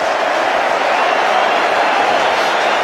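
A big cricket stadium crowd roars continuously during a T20 super over, a loud, steady wash of cheering with no break.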